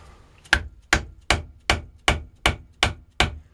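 Black powder is hand-rammed into a spolette time fuse tube for a fireworks shell in eight evenly spaced, sharp wooden whacks, each close and loud with a short decay, with no voices.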